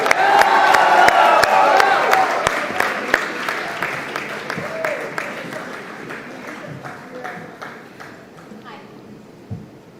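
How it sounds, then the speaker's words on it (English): Live audience at the WOW 2019 event in Mumbai breaks into loud applause with cheering as Alia Bhatt is welcomed on stage, dense clapping strongest at first then thinning and fading over the ten seconds. "please put your hands together to welcome on stage the one and only Alia"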